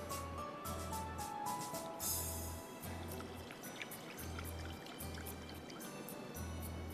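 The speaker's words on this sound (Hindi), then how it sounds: "मज़ीद पानी शामिल हो गया।" Water poured into a flour batter in a kitchen, a soft continuous pouring trickle close by, alone without talk and fairly faint.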